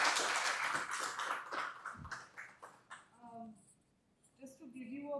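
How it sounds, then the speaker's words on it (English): An audience at a leadership talk applauds in a burst of dense clapping over about two seconds that fades out, then a voice begins speaking. "A round of applause"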